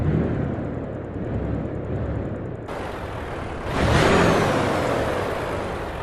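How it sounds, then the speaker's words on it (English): A Volvo FH16 16-litre truck engine in Euro Truck Simulator 2 drones steadily, then a hissing air release, followed by a rising rev as the truck pulls away, loud and continuous with no talk. "So this now actually sounds like a 16 litre engine."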